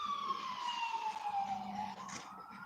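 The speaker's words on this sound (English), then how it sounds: "let this siren go by." Emergency vehicle siren passing by on a city street, a loud wailing tone sliding downward then rising again, heard from outside over low traffic rumble.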